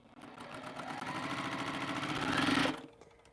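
A domestic sewing machine stitching quilt seams for an Africa map quilt, running as a steady, close motor whir with rapid needle clatter that builds slightly louder before cutting off near the end.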